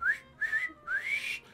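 Three rising whistled notes in Dragon Quest XI S, the last one long and swooping upward, clear and close with nothing else over them.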